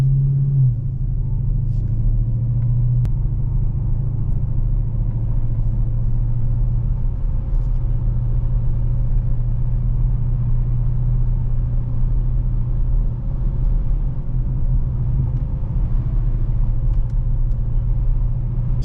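A Dodge Charger Daytona Hellcat cruising slowly in track mode, its engine a steady deep rumble heard from inside the cabin, constant and unbroken throughout.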